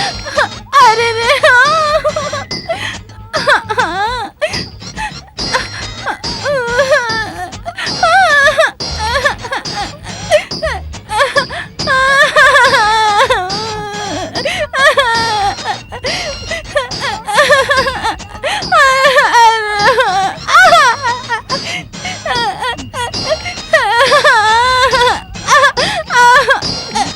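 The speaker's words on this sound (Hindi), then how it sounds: "अंदर संगीत की बजाय रोने की आवाज आ रही है।" Crying and wailing sound from inside a room where music was expected, with gasps and whimpering mixed through a dense, continuous stretch of loud, wavering vocal sound.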